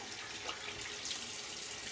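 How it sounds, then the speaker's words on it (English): Tap water runs steadily into a sink for a cold rinse after a shave, a soft continuous hiss and splash that stays even throughout with no voices. "So I'm going to do a quick cold water rinse"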